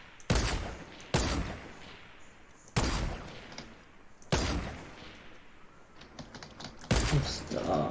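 Five sharp, loud sniper rifle shots ring out in a Fortnite match, spaced irregularly over several seconds, each with a short echoing tail over a low game background.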